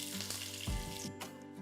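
Long-sliced onions frying in ghee in a pan with whole spices such as bay leaf, cinnamon, cardamom and cloves for paneer biryani, a steady close sizzle with a louder crackling burst partway through.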